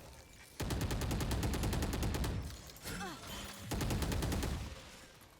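Rapid automatic gunfire from a bot in Valorant comes in two sustained bursts of fast, evenly spaced shots, with a short pause and a brief game sound between them, fairly faint overall.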